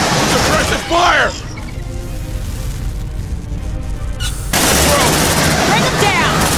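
Bursts of loud rifle fire and explosive booms from combat in the video game Aliens: Dark Descent, thick and dense at the start and again near the end, with voices barking orders in between.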